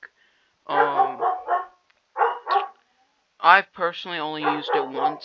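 Dogs bark in short bursts close by while someone talks, the barking overlapping and interrupting his speech.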